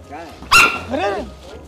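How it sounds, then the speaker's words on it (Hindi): A dog barks loudly at close range, one sharp bark followed by a whining, yelping sound, while people talk excitedly in Hindi around it during a street prank. "कुत्ता है कुत्ता"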